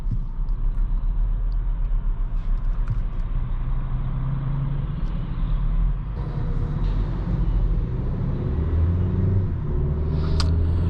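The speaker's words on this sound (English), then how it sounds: "turbo engine is really smooth, and this 8-speed shifts like really fast" Steady low rumble of a 2021 Hyundai Sonata Limited's turbo engine driving in sport mode, a continuous smooth drone with road noise and small pitch shifts as the 8-speed automatic changes gear, heard from inside the cabin.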